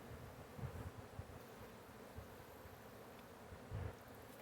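Honey bees from a swarm buzz faintly outdoors, a soft continuous drone with a few louder passes as individual bees fly close by.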